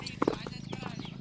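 A mare's hooves clip-clop in a quick uneven rhythm close by, a couple of sharp strikes standing out, while people talk over it.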